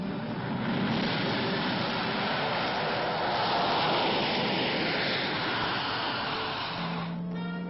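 Military aircraft at Elmendorf Air Force Base, a steady, loud, broad engine roar holding for several seconds before a lower tone rises near the end.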